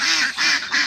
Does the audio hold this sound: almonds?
no